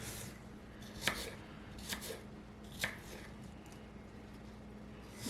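Apple being chopped into small pieces on a cutting board, a few quiet, irregular knife knocks over a faint background hum.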